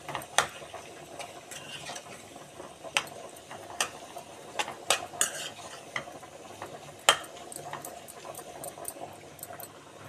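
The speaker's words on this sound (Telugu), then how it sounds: "సాల్ట్ వేసుకుని బాగా కలుపుకోండి" A spoon stirs potato curry in a pan after salt goes in, giving irregular metallic clinks and scrapes against the pot over a faint frying sizzle, close by with no talk.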